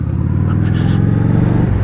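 A 2024 Honda Shadow Phantom motorcycle engine pulling away, a loud close low rumble with a steady throbbing beat that builds slightly as the bike sets off.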